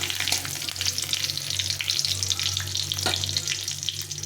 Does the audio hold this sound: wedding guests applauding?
no